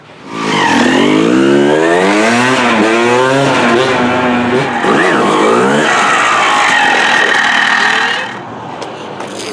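Yamaha YZ two-stroke dirt bike ridden on a test run, its engine revving loudly and continuously with rising and falling pitch for most of the stretch before easing off near the end.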